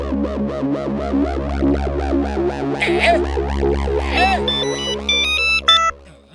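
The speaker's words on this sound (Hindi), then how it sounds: "पप्पू सुपारी को फोन लगाओ" A phone call rings out in a Motu Patlu cartoon as a warbling, repeating electronic ringtone over a steady low hum, ending in bright beeping tones before cutting off.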